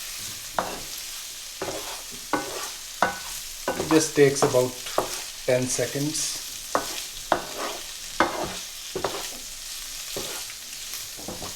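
Water splashes into a pan of frying chilies, and the sizzle flares up in bursts amid repeated stirring scrapes and clatters, close by, while a person talks briefly.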